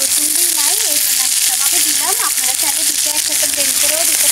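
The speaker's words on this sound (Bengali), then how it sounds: "এখানে আমি বেটে নেওয়া পেঁয়াজ আর মরিচের যে পেস্ট তৈরি করছি ওটা ফার্স্টে তেলের মধ্যে দিয়ে দিচ্ছি" Onion and chili paste frying in hot oil, a steady, loud, close sizzle that fills the whole clip, with someone talking over it.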